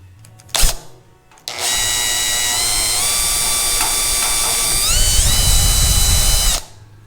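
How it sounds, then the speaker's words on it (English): A power drill bores holes in the sheet-metal grille of a Farmall Super M tractor for an emblem: a short bump, then a steady high whine for about five seconds that bogs slightly near the end before stopping, close and alone. "I've got the holes drilled for our new IH emblem in the center of the grill"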